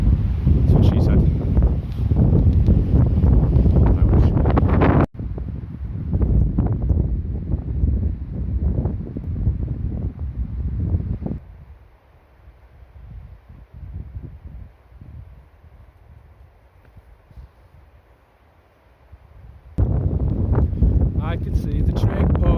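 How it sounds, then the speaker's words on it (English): Wind blowing hard across an exposed hilltop, loud buffeting gusts roaring into the microphone, easing for a stretch before surging back at full strength; a voice talks over parts of it. "It's a bit windy up here. You can probably hear it."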